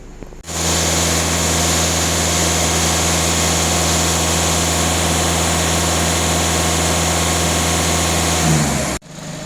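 A VW Skoda car engine idles right after cleaning of its emissions system with a new soot filter, a steady even hum with a constant low tone that starts abruptly and cuts off near the end.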